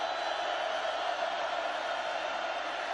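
Steady roar of a stadium crowd at the Purdue at Oregon college football game in 2009, a dense continuous wash of voices holding level throughout with no distinct cheers standing out.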